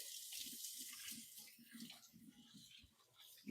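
Running water from a kitchen sink tap while hands are washed, a steady close splashing stream with small rhythmic disturbances as the hands move under it.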